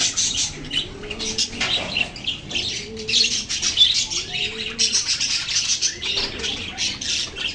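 Caged parakeets at a Malabon pet market chirp and squawk continuously, with bursts of wing flapping and scattered calls close by, no talking.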